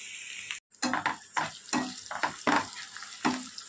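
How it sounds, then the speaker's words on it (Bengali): Finely chopped tomato and grated ginger hit hot oil in a pan and fry with a close, hissing sizzle, stirred in quick repeated bursts of scraping after a brief drop to silence. "এবার এর মধ্যে দিয়ে দেবো একদম কুচনো টমেটো কুচি। এর সঙ্গে দিয়ে দেবো গ্রেট করে রাখা আদাটা।"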